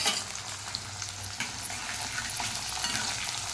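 Onions and green chillies fry in hot oil in a pan, giving a steady, dense close-up sizzle with faint stirring clinks and no voices.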